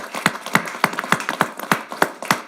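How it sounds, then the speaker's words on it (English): Scattered hand claps from a council chamber audience after a presentation, a sparse irregular patter of individual claps rather than a dense ovation, moderately loud with no talking. "I'm going to give you a big round of applause"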